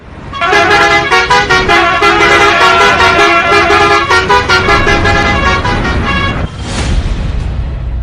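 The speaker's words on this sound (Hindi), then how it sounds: "हॉर्न की ये तेज आवाज सुनकर आप परेशान हो गए हो।" Loud, insistent bus horn blasts honk in rapid repeated bursts, then a single longer tone sounds near the end.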